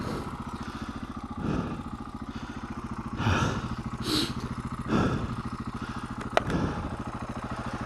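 KTM 690 single-cylinder motorcycle engine idling steadily close by, a dense low throb with brief louder revs and a few sharp clicks.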